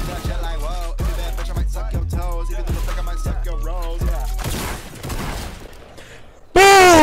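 Gunfire in a shooter video game comes as sharp, evenly spaced shots in a steady rhythm, followed by a burst of noisier blasts and a rising electronic tone at the end.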